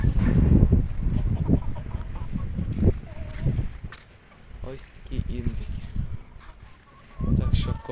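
Bombay turkeys gobble and cluck in a farmyard, bursts of throaty calls close by, mixed with a person speaking.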